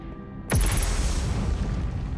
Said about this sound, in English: And those explosions are unsettling.